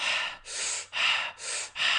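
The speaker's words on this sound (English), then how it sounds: "This Tumo breathing, trying to heat yourself up." Tummo breathing exercise with heavy, forceful breaths, a rapid rhythmic series of about five loud, close inhales and exhales with no talk.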